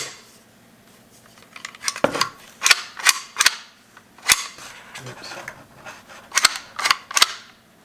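A semi-automatic rifle action is worked by hand, giving a run of sharp metallic clacks and clicks in uneven bursts, close and fairly loud, with quiet pauses between strokes.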